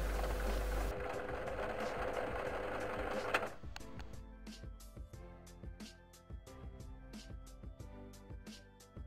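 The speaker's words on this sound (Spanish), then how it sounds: "remallando las partes que he cortado con la tijera" Overlock machine serging the scissor-cut edges of boat anchoring cover fabric: a dense, whirring run for a few seconds, then a fast, regular train of mechanical stitching clicks close by.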